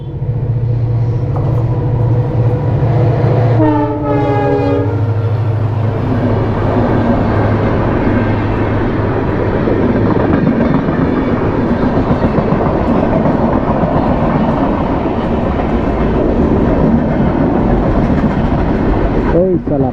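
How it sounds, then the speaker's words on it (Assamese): A train passing near the station on colony road in Chabua town, a loud horn blast early on, then a heavy rolling rumble with rhythmic clickety-clack of wagons that continues close and steady, with a person talking over it. "এইখন চাওক ট্ৰেইন আহি আছে"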